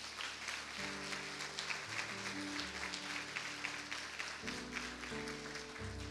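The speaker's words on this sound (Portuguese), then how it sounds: "Você pode aplaudir Jesus por isso?" A church congregation claps steadily and fills the room throughout, with sustained keyboard or organ chords ringing beneath the applause.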